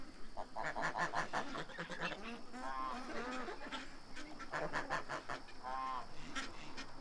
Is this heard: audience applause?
no